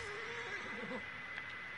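A horse whinnies in Assassin's Creed Origins, a single wavering neigh rising and falling over a steady game ambience, fairly faint and with no talk over it.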